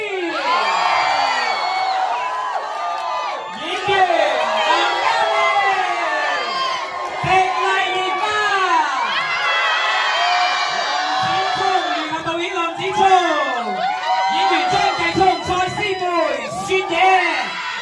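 A large crowd at a film thank-you screening featuring director Stephen Chow roars with cheering, whoops and shouts, steady and loud throughout, with an announcer's voice over the noise; clapping is not clearly distinct.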